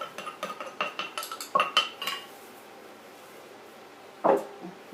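A quick series of light wooden and ceramic knocks and clinks as a pestle scrapes and taps in a mortar of fresh chili dipping sauce, then a pause and one louder clunk near the end as the pestle is taken out.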